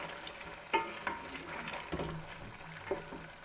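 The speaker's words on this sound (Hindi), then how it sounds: "अब मैं इसमें टमाटर डालूँगी, 1 टमाटर कटी हुई। ताकि वो भी थोड़ी सी नरम हो जाए।" Chopped tomato tipped into a hot frying pan, giving a near, moderate sizzle with a few sharp clatters and stirring knocks, no voices.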